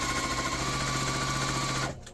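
A sewing machine stitches a straight quarter-inch seam through batik fabric for a table runner, a steady close mechanical whir with rapid even needle beats that cuts off near the end.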